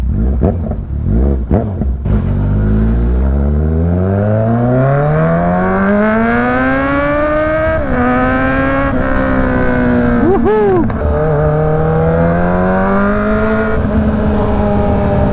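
Kawasaki motorcycles rev hard and accelerate close by at a dealership event, engines climbing steeply in pitch through gear changes, with sharp throttle blips and a further rising run, loud throughout.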